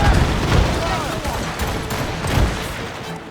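Ship cannons boom in a naval battle in Assassin's Creed Rogue, a volley of heavy low thuds and rumbling blasts that overlap and roll on for a few seconds, loud and close.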